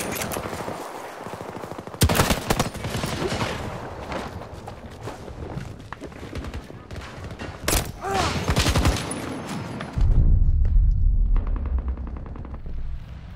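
Battlefield 2042 gunfire from a sniper rifle used at close quarters, sharp loud shots and rapid bursts scattered through the stretch, with footsteps and battle noise around them and a heavy rumbling blast near the end.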